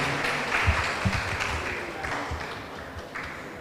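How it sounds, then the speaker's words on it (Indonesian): Audience applause at a psychology faculty farewell ceremony for graduating students, a broad steady wash of clapping that holds through the clip with a few sharper claps near the start. "kita berikan tepuk tangan sekali lagi untuk Bapak Bonaventura Sunu dan juga Pak Didik"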